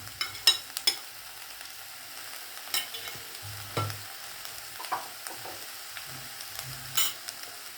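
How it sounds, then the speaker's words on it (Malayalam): Green chillies, garlic and curry leaves sautéing in a pan for an okra masala curry: a faint, low sizzle with sparse scrapes and taps of a spatula stirring, close and otherwise quiet. "ഇതെല്ലാം കൂടെ ഒന്നിച്ച് നല്ലവണ്ണം വഴറ്റിയെടുക്കണം"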